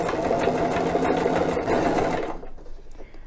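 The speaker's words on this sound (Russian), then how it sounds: "шьем." Close and steady, a sewing machine stitches a wide zigzag with a cording foot attaching decorative cord, running for about two seconds before slowing and trailing off.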